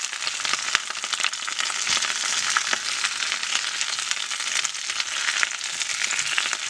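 Bok choy tossed and frying in hot sesame oil, a steady loud sizzle with crackling spatter and occasional clacks of tongs or chopsticks against the pan.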